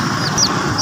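Chicks at a street vendor's stall give short, high peeping chirps in quick succession over a busy, noisy background.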